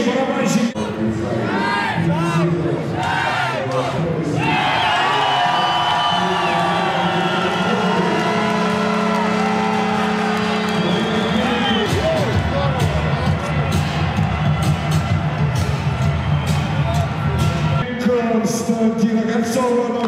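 Crowd of ice hockey fans at a Dinamo game cheering and chanting steadily, with trumpets blaring sustained notes and drums pounding beneath, the roar continuous and loud throughout.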